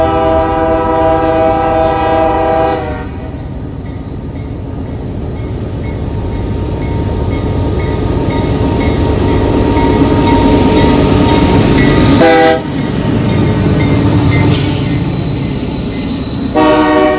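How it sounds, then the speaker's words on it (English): CSX mixed freight train M634 passing, with a loud multi-note horn blast at the start, a steady rumble and clatter of rolling cars, and further short horn sounds near the end. "Making one of its last journeys through this area on its daily journey between Columbus, Ohio and Selkirk, New York was CSX mixed freight train M634."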